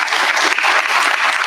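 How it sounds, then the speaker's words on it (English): A crowd at a football awards night breaks into loud, close applause, a continuous wash of many hands clapping with no talk on top. "Let's give them a round of applause."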